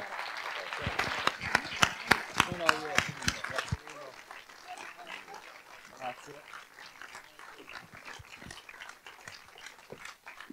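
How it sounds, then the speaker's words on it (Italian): A press-conference audience at the 40th Torino Film Festival applauds as Steve della Casa is welcomed on stage, a burst of sharp, dense clapping that thins after a few seconds while voices murmur beneath. "Un grande applauso"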